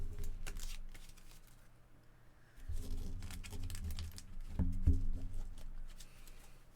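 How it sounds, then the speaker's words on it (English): A deck of Magic cards is pile shuffled, giving a close, steady run of soft card slaps and papery shuffling patter with a denser burst near the end and no talking. "Good old pile shuffle."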